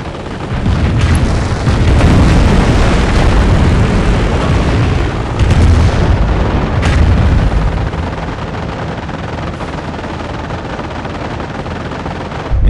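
Artillery barrage explosions in Company of Heroes during the Falaise Pocket mission: a loud, dense, continuous roar of overlapping booms and blasts that eases slightly toward the end, with no voices.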